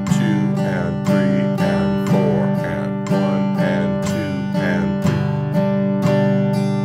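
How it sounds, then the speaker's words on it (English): Guitar strummed in steady straight eighth notes, down and up, alongside a metronome clicking at 60 beats per minute; bright, even chords repeat in a regular pulse with no voices. "I'm going to start off just playing straight eighth notes,"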